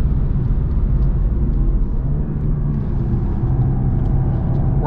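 A 2022 BMW 230i Coupe accelerating hard, its engine pulling in a loud, steady, low droning rumble heard from inside the cabin, continuous throughout, no talk.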